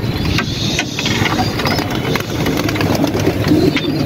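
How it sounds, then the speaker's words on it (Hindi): Pigeons released from a rooftop bird setup, with busy low rumbling and fluttering bird activity close by throughout, faint cooing mixed in and a steady background engine-like hum. "तो अभी हम कबूतर उड़ा रहे"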